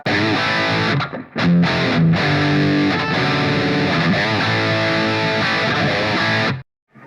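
A distorted electric guitar through the Treadplate amp model of a Line 6 POD HD500X plays a sustained, singing solo line with dense harmonics, loud and steady, ending abruptly before a brief faint tail.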